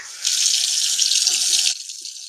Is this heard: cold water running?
yes